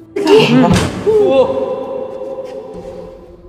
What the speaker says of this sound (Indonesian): tiba-tiba pintu tertutup dengan sendirinya sehingga membuat suasana semakin menyeramkan